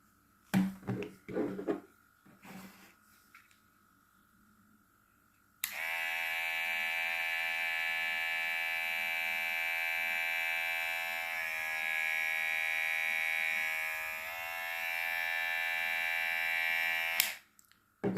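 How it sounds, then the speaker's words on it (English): A cheap no-name electric hair clipper buzzes with a steady, strong hum for about twelve seconds. It cuts in abruptly, sags slightly in the middle and then stops, after a few brief handling knocks. "And it's really a weak hair clipper. You see that? You hear that?"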